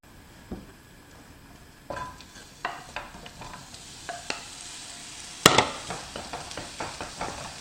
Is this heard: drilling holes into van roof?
no